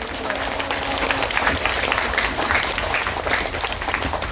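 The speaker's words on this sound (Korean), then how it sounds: "서로 격려 박수 한번 줍시다" Steady, dense applause of encouragement from a gathered audience at a political meeting, a continuous wash of many hands clapping with faint crowd murmur mixed in.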